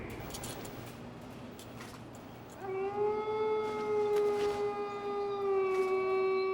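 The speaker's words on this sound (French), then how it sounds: "c'était le cri d'un loup surtout" A long wolf howl in Metal Gear Solid 2 rises out of dim rumbling background noise and holds a steady, slightly wavering tone for several seconds, loud and clear.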